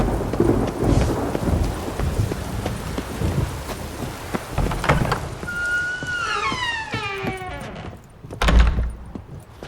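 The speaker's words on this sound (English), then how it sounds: "Storm, damn it." Thunderstorm in The Witcher 3 with a loud, rumbling wash of rain and thunder, a sharp thunderclap near the end, and whooshing, swooping tonal effects mixed in midway.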